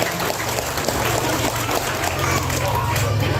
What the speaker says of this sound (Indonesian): tepuk tangan yang meriah untuk Bapak Bupati